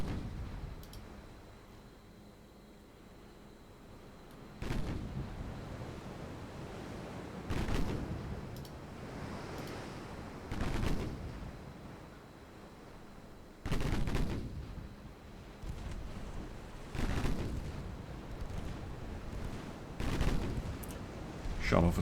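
Torpedo hit and ship explosion in a 1940s naval war game, heard as several loud booming blasts at intervals, separated by quieter stretches of rumbling background.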